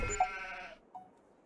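Sheep bleating in a farming video game, one harmonic bleat about three-quarters of a second long, fairly close and moderately loud, followed by a faint short call, with no talking over it.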